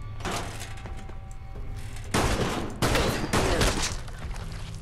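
Bursts of gunfire in the post-apocalyptic game Fallout: London, several loud, heavy volleys close together over a continuous background rumble, with no voices.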